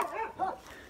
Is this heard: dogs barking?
yes